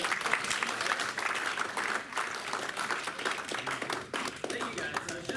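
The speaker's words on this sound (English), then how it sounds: "Everybody give him a round of applause." An audience at a live business credit and real estate event in Hawaii breaks into sustained clapping, steady and moderately loud, with voices underneath.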